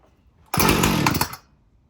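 A chainsaw cold-started with its decompression valve pushed in and chain brake on catches on the first pull, bursting into a loud, rough engine roar for under a second before dying back to quiet.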